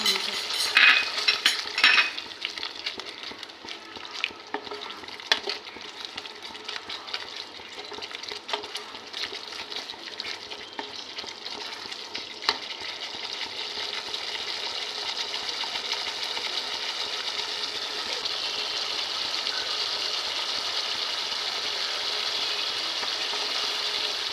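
Tomato paste added to hot oil in a pan for Bengali rui fish kalia, giving a steady bright sizzle that swells and thickens over time, with occasional clinks of a utensil early on and no talk.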